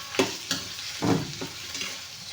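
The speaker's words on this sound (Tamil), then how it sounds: "இப்போ அதே நம்ம மண் பாத்திரத்தில் செய்யும்போது இந்த சத்தம் வருங்களா" Food sizzles in a clay pot while a utensil stirs and scrapes against it in several short, uneven strokes, heard up close.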